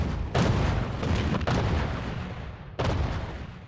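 An artillery barrage in a World War II desert offensive, heavy booming blasts rolling together in a loud, dense roar, with a fresh sharp detonation near the end.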